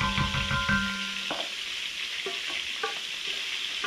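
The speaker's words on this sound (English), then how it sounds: "Scallions going in." Scallions hitting a hot pan for a traditional pasta dinner, an initial burst of loud frying that settles into a steady close sizzle with a few light stirring clicks, no voices.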